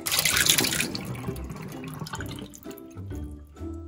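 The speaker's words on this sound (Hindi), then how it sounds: "अब इसे हम छान लेंगे, स्ट्रेन कर लेंगे।" Boiled water is poured off through a strainer while making Kashmiri chai, a loud splashing gush at first that thins into trickles and drips, with clinks toward the end and no talk.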